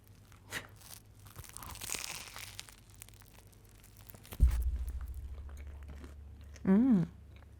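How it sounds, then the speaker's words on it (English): A crunchy bite of food taken close to a microphone: scattered crinkling and rustling lead to one sharp, loud crunch midway, followed by a lingering low rumble and a brief whistling tone near the end. "we want to hear that crunch right in that microphone"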